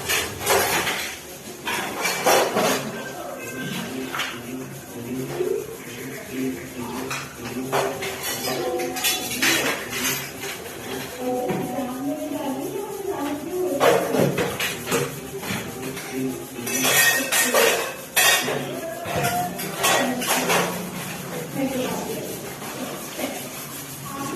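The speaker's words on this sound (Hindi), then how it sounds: "अब जो ये थोड़े बहुत बर्तन हैं इनको चलिए धो लेते हैं" Dishes, pots and cutlery get washed by hand in a home kitchen, with steady clinks, clanks and taps of metal utensils knocking together over running-water hiss across a long stretch, some quiet talk briefly in the background.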